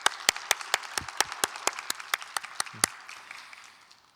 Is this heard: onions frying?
no